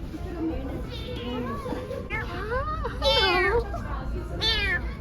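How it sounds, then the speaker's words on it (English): A small kitten meows several times in a lush botanical garden in Baguio, Philippines, its thin, rising cries standing out over steady outdoor background noise while people talk nearby. "Oh, there's a little kitten."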